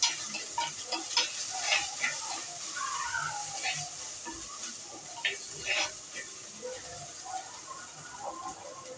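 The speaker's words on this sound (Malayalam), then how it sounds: "മഞ്ഞൾ മൂക്കട്ടെ." Turmeric frying in hot oil in a pan, a soft, steady sizzle with scattered scrapes and clicks of stirring, fairly close and moderately loud.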